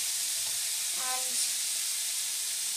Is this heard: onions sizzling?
yes